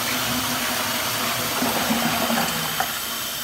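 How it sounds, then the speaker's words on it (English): A toilet flushing with a continuous loud rush of water, close by and steady for the whole stretch, with no one talking over it. "So we'll flush the toilet now."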